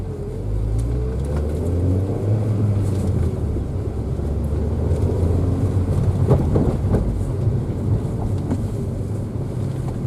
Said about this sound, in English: So my first test, I'm gonna let the car roll.